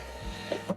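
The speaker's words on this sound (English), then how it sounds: "I'm gonna try to print out just one of my labels real quick." A thermal label printer feeds out a single shipping label, giving a brief, steady mechanical whirr with a faint hum at close range.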